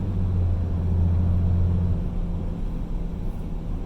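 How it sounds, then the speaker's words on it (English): Deep, steady turbo diesel engine drone from a 2019 RAM 2500 pickup truck being driven, with a low throbbing hum, loud and continuous throughout, fading slightly toward the end. "Hearing that turbo diesel is something special right there."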